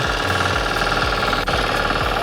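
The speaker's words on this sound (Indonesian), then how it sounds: "Nah, jadi ini adalah traktor 4 roda ini ya." A four-wheel Firman plough tractor with a 10 HP diesel engine works a hard field that was once planted with corn. The engine chugs loud and close with a fast, rhythmic knocking pulse over a heavy, steady mechanical drone.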